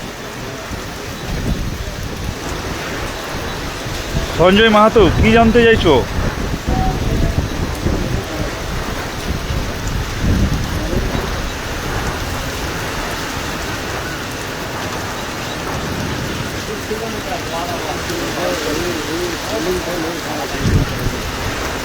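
Heavy, steady downpour in Rupnarayanpur pours on surfaces with a low rumble of thunder, continuous and fairly loud, while someone talks over it.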